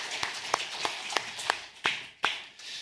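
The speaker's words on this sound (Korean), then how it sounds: "하나님께 영광의 박수를 드리겠습니다." A congregation claps during a church worship service at Mapo Central Church: a steady, rhythmic run of sharp claps with a few stronger accents toward the end, heard alone with no talking.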